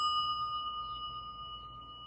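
A single bell rings as part of a guided meditation, a clear high tone left sustaining and slowly fading with nothing else heard.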